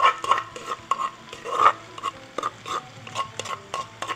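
A spoon or spatula scrapes and clatters against a pan as pounded fish and spice paste is stir-fried, the sharp scraping strokes arriving in quick irregular bursts with a faint sizzle beneath.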